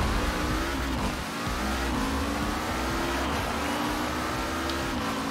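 Race cars in a Forza Horizon 4 LEGO race drone steadily, engines rising and falling through gear shifts with a few revs, loud and continuous with no talk.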